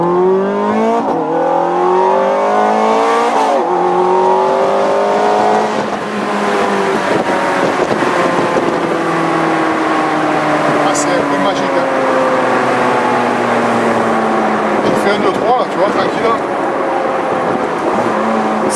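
A Ferrari F430 Scuderia 16M accelerating hard, its engine note climbing through the gears with quick shifts, loud and close from inside the cabin while people talk over it.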